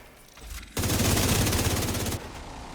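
Sustained automatic gunfire in The Division 2 video game, aimed at the armored hump weak spot of a robotic enemy; a dense, loud burst of rapid shots lasting over a second after a short lead-in.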